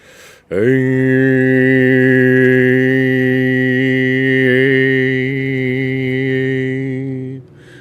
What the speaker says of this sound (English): So by nasalizing a little bit when you're vibrating from your diaphragm